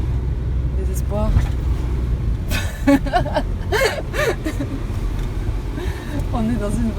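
Steady low rumble of a car engine and road noise from inside a moving luxury car, continuous under scattered voices talking.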